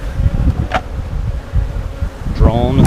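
Honey bees swarm around an opened hive with a single deep brood chamber and plenty of field bees, making a dense, steady close-up buzz with faint passing whines.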